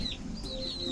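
Soft clucking and peeping from hens and their seven chicks, a brief, faint murmur of fowl sounds close by.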